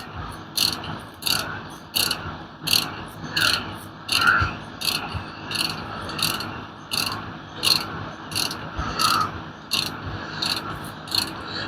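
A hand ratchet works the bolts on the tailshaft of a 727 A-833 transmission. It clicks in a steady back-and-forth rhythm of rasping strokes, close by, repeating about a dozen times with no talk.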